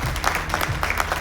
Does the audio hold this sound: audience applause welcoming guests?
yes